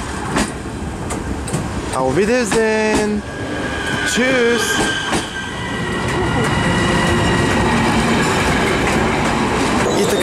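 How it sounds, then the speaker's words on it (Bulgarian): A train pulls out of a station in Sofia, loud and close, with rumbling wagons, clattering wheels and a steady rising roar; people call out farewells over the start as it gathers speed. "Ако не сте чували високо качествено тръгване на влак, сега чухте"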